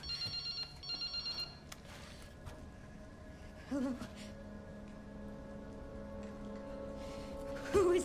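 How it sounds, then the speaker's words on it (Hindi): A mobile phone rings in the video game Resident Evil Requiem, with repeated electronic ring bursts early on before it falls quiet under low ambient game sound and a faint tone. "ये मोबाइल फोन बज रहा था।"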